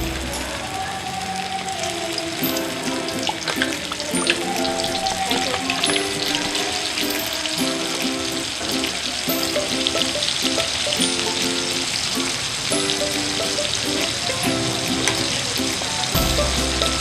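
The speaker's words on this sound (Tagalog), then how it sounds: "Ready na natin sa pagprito ang fish fillet." Cornstarch-coated fish fillet fries in hot oil, a dense, continuous crackling sizzle that stays loud and close throughout, with no talking.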